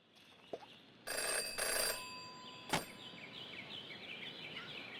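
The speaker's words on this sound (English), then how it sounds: "Jenny had learned never to ignore a ringing phone." A telephone rings in the Jenny LeClue detective video game, two bright ringing bursts close together followed by a sharp click, set against a quiet background with soft ambient tones.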